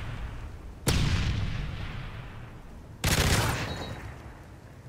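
Two loud gunfire blasts in a Call of Duty-style game, each a sharp crack followed by a long fading rumble, spaced about two seconds apart over quiet background noise.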